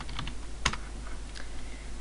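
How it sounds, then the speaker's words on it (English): A password being typed on a computer keyboard during an Ubuntu Server 12.04 phpMyAdmin install, a few soft, close key taps spaced irregularly over steady room hiss. "So, we'll go ahead and type that in."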